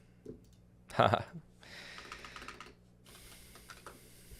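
Typing on a computer keyboard: a short burst of close keystroke clicks follows a louder thump, then lighter tapping continues over faint room noise, briefly overlapping with a voice.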